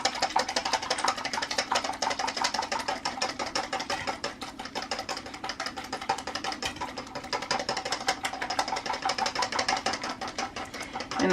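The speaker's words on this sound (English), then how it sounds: "So we're going to beat it with the whisk quite a bit." An egg white being whisked by hand in a home kitchen, a steady fast rattling of the whisk against the bowl running continuously and fairly close throughout.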